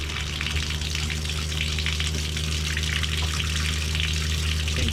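Water runs steadily from an RV bathtub faucet while the plumbing is being winterized, a continuous splashing gush close by with a low hum underneath.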